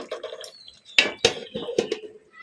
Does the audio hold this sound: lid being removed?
yes